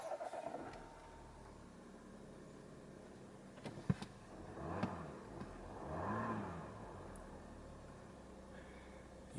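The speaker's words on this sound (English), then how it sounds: "I'll start the engine now and see if you can appreciate how smooth this is." An Audi A4 3.0 TDI Quattro S Line Avant estate with automatic transmission starts its diesel engine with a brief crank and a soft rise, then settles into a quiet, smooth idle.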